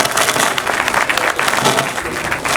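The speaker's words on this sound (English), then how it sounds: "Ladies and gentlemen, please give us a round of applause for Mr. Meketso Abu Vasutu, all the way from" Crowd at the Agribank Schools Deposit Promotion National Draw applauds loudly, a thick, steady wash of many clapping hands lasting a few seconds.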